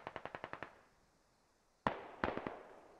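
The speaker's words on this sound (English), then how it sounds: "Oh, Nestor gets pummeled by some mortar rounds, but he ain't moving." Explosions from a mortar barrage in the military shooter game Squad: a rapid run of about seven sharp cracks, then a lull, then two loud nearby blasts with rumbling tails, heard alone without talk.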